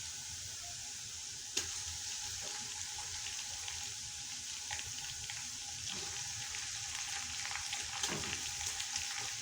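Beef pieces frying with golden, light-pink onions in a pot for nalli nihari, a steady broadband sizzle with faint stirring clatter, one sharp knock near the start, no voices.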